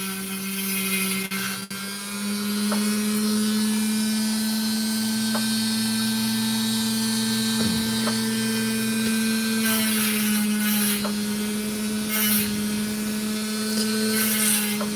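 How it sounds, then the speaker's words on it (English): A grinding tool cuts precious opal at Lightning Ridge, whining steadily and loudly for the whole stretch, with scratchy grinding texture and a few brief clicks and surges along the way. "That's the sound of precious opal."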